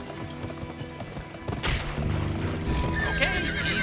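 In the Western video game GUN, a horse whinnies loudly over background music, followed by quick hoofbeats of galloping.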